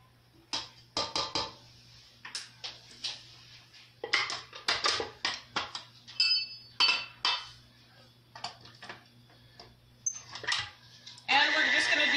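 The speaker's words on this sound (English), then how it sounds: "Just scraping everything off of the spatula here to make sure we get all ingredients." Spatula scraping and clinking against a mixing bowl while dinner roll dough ingredients are gathered, a series of short, sharp scrapes and clinks in irregular bursts, close by and fairly quiet.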